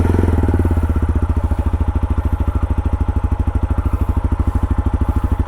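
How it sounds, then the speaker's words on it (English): A TVS Apache RTR 160 4V motorcycle, 20th Anniversary Edition, idles close up with a steady, rapid thumping exhaust pulse, loud and even throughout with no voices. "Now let's check the exhaust note before going for a short ride."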